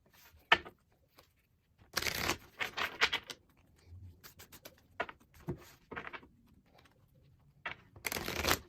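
Tarot cards are shuffled in several quick bursts of riffling and sliding, close and soft, separated by short pauses.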